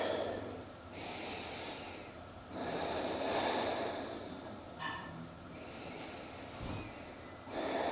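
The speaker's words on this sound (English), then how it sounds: "Just close your eyes and take a couple breaths." Slow, deep breaths are taken with eyes closed: several long, clearly audible inhales and exhales close by, spaced a couple of seconds apart in an otherwise quiet room.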